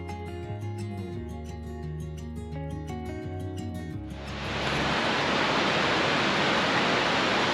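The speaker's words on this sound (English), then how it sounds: "Right before you get to Lone Pine Lake, you're gonna come to this really nice little waterfall area" Steady broadband rush of a small waterfall near Lone Pine Lake on the Mt. Whitney trail, rising abruptly to a loud, constant roar after an opening stretch of tonal music.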